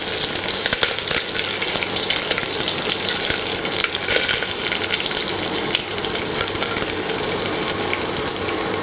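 Garlic, dried red chillies and curry leaves sauté in hot oil, making a loud, dense, continuous crackling sizzle that stays close and steady throughout, with no talk.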